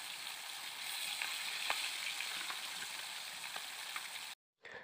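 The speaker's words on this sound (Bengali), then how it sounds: "মাছগুলোকে দিয়ে এপিট ওপিট উল্টে পাল্টে আমি ভেজে নেব।" Cut fish frying in hot white oil in a wok gives a close, steady sizzle with scattered crisp pops, cutting off abruptly near the end before a short return.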